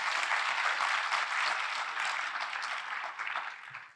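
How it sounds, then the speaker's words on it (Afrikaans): Audience applause at the ATKV-Kultuurkuier 2025 cultural gathering, a dense, sustained clapping from a large crowd that tapers off near the end. "Kom ons gee lekker aan 'n klap."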